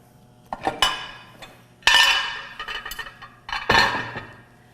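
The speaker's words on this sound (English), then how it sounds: "Glass is noisy." Several sharp glassy clinks close by in a kitchen while seasoning with salt and pepper, in separate bursts with short ringing tails over a quiet hum.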